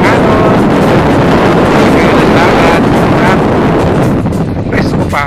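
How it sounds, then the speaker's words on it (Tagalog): Strong wind buffets the microphone with a loud, constant roar on a seaside road, while waves and faint voices can be heard beneath it. "Mahangin."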